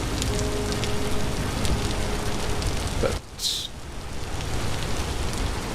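Rain falls in the video game Vintage Story, a steady close hiss of drops on surfaces that briefly dips and then returns, under a faint low hum and a soft spoken word.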